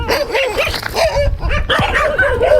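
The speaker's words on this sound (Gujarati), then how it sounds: "કૂતરા ભૂમે હે" Dogs bark and yip repeatedly in a busy, overlapping stream, close and loud, with whining tones mixed in throughout.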